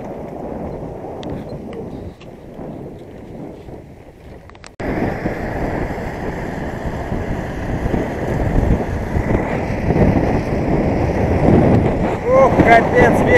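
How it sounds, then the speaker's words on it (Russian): Strong wind in an open field buffeting the microphone, a loud rushing roar that grows heavier partway through and keeps building. "Капец, ветер в поле."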